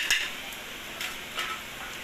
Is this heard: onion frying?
yes